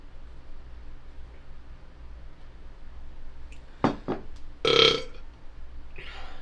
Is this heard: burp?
yes